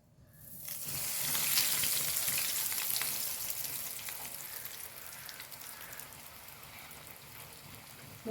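A chicken roll coated in bread crumbs drops into hot oil on a gas stove, a steady bright sizzle swelling quickly and holding close and loud, easing slightly toward the end with no talking.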